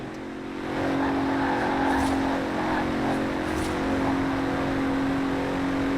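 A 2017 Bentley Continental Supersport engine in Forza Horizon 4 holds a steady, loud droning hum that swells early on and stays sustained without talk.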